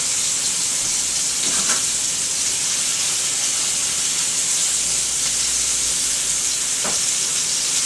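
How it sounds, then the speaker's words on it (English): Steady hiss of pork chops frying in a hot pan, broad sizzle with a few brief pops and crackles, no voices. "I don't know if you guys can hear the sizzle"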